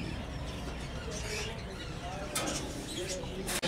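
Pigeons, including white binocular-type birds sold in pairs, coo and chirp at a bustling bird market in Multan, with a steady crowd murmur and voices of vendors running underneath throughout.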